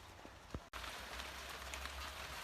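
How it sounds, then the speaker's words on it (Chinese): Steady rain falling outdoors in a rural village, a dense even hiss with a brief dropout partway through. "这下雨了，这天气。"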